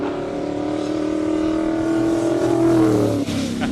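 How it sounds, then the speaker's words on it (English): A classic V8 race car from the Lindenberg Racing Stables at a Cape Town speed event roars close by, its engine note climbing steadily as it revs, loud and alone. "This car's got a very unique sound for a V8 of that era."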